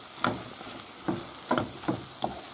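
Paprika being stirred briskly into a sizzling frying pan while making a seafood cream soup: five short scraping stirs over a steady frying hiss, close by and with no talk.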